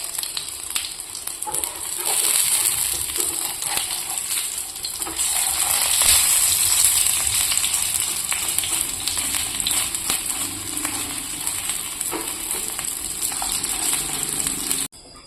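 Small round pithas shaped from leftover cooked rice fry in a pan, giving a loud, dense, continuous sizzle with bubbling crackle that holds steady for the whole stretch before cutting off abruptly.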